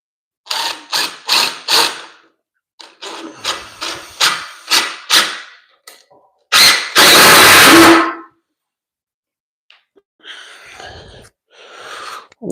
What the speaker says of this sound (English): And let's put few screws.